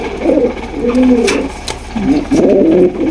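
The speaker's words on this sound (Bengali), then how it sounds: "হচ্ছে খুব সুন্দর একজোড়া ব্লু শাটিন কবুতর।" A pair of blue satin pigeons cooing close by, several rolling, throaty coos repeating in short bursts with brief pauses between them.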